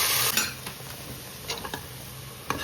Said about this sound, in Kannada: ಸ್ವಲ್ಪ ಆಯಿಲ್ ಹಾಕ್ಕೊಳ್ಳಿ. ಆಯಿಲ್ಗೆ ಇದು ಏನೇನು ತೊಗೊಂಡಿದ್ದೀವೋ ಅಷ್ಟನ್ನು ಹಾಕ್ಕೊಳ್ಳಿ.